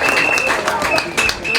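A speedway crowd at an Isle of Wight National League meeting applauds a rider's introduction, producing steady loud clapping and cheering that lasts throughout, with a voice over the public address.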